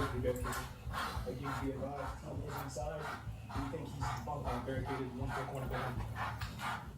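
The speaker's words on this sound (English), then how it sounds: "It's okay to let the damn dog loose." A police dog barks repeatedly at close range during a law enforcement entry into a house, its yips and whimpers mixed with urgent overlapping voices.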